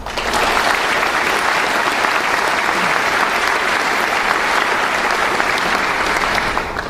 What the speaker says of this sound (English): how about giving them all a warm round of applause